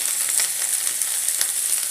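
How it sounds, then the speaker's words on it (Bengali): Potatoes and cauliflower frying in hot oil in a wok, a loud, close, bright hiss of sizzling with small pops, brief and uninterrupted. "কড়াই তেল গরম করে নিয়েছি, আলু আর ফুলকপিগুলোকে ভেজে নেব।"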